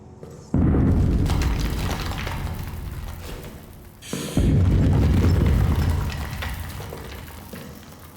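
Two heavy booming explosions outside in the video game Amnesia: The Bunker, each a sudden loud blast followed by a long rumbling decay.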